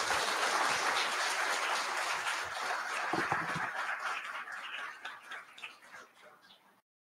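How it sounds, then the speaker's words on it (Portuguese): Audience applause at the close of a talk on science education, dense at first and gradually thinning and fading out toward the end. "vamos aplaudir"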